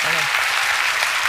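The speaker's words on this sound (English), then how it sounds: "They are all clapping." An audience claps and cheers in a loud, dense burst, continuous hand clapping filling the room with a brief crowd voice at the start.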